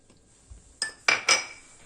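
A small onion is crushed with three sharp, close knocks, the last two quick and ringing, after a brief quiet pause and with no voices.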